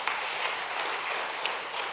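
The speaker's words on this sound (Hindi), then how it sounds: "माननीय प्रधानमंत्री जी का एक बार फिर जोरदार ताली बजा के अभिनंदन करें" Dense, steady applause from a large audience welcoming the Prime Minister at a public event in Madhya Pradesh, filling the whole moment without pause.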